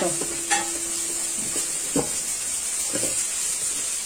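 Carrots go into a hot pan with a loud, steady sizzling hiss, punctuated by a few scraping stirs and knocks; no one speaks.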